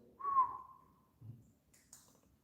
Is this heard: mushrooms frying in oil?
no